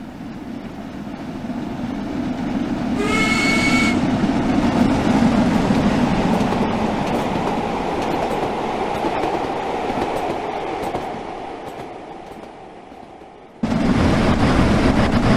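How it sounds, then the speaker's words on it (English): Steam train approaching in the Train Sim World game on the Manchester London Road to Liverpool Lime Street route: a loud, steady rumble of the locomotive, a brief whistle-like tone early on, the noise easing off and then surging back sharply near the end. "Slowly here our train approaching."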